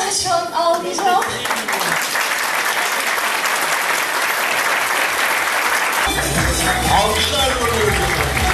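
Loud sustained audience applause at the Türkiye Kristal awards ceremony, dense clapping under cheers and voices, with music rising in the background partway through.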